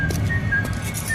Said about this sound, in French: Une chansonnette sifflait joyeusement, un bruit de clé